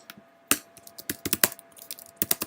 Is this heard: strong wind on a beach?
no